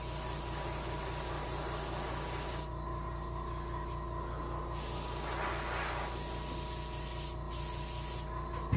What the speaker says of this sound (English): I'm gonna go ahead and angle spray these fins.